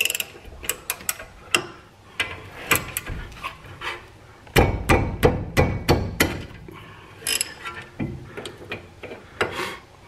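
A ratchet wrench on an 18 mm caliper mounting bracket bolt of a Jeep Patriot's front brakes gives close, repeated ratcheting clicks in quick bursts, with sharper metallic knocks and clanks between strokes.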